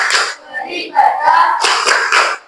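Teachers chant a clapping routine together, their voices in unison in a loud sing-song group chant punctuated by sharp, rhythmic hand claps that cluster toward the end.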